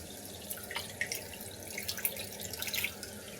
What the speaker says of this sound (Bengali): এদিকে পাটার মাংসগুলো ধুয়ে নিলাম